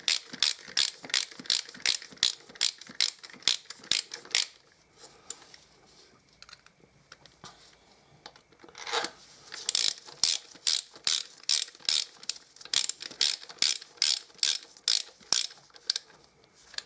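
Ratchet snugging up bolts on a Harley Davidson Deuce trike, repeated crisp clicking strokes in fast even bursts, a pause in the middle, then another long run of close, sharp clicks.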